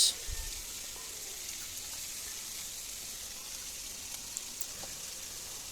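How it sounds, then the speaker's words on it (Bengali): Chicken pieces frying in a pan give a steady, even sizzle that hisses on without break at moderate loudness, with a brief knock at the start. "মাংসগুলোকে এভাবে আমি ভেজে নেব দুই পাশ"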